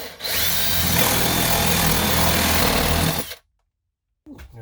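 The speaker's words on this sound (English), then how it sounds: "So now let's drill a hole on this side and fish a wire down" A power drill whirs loudly for about three seconds, drilling a hole through a camper wall, grinding steadily, then stops abruptly; a faint rustle follows after silence.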